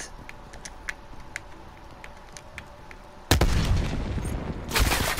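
Call of Duty Black Ops Cold War gunfire: sparse faint clicks at first, then a sudden loud burst of shooting that holds for about a second and a half, a short lull, and a second heavy burst.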